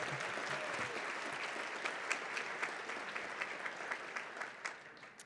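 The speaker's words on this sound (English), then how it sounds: "Big round of applause for Ariel and Tommy." A luncheon audience at the Girls and Women in Sports event applauds honorees, a fairly soft, even patter of many hands with a few louder individual claps toward the end.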